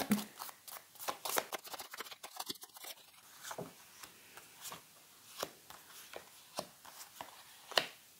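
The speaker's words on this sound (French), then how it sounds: "Allez, on va mélanger les 5 cartes." A small deck of five cards is shuffled by hand, giving soft irregular papery flicks and taps close by, quiet and without talk.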